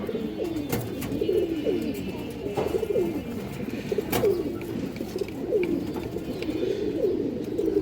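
Several fresh pigeons kept for sale coo continuously in overlapping, throaty low calls, close and fairly loud, with a few brief clicks and flutters mixed in.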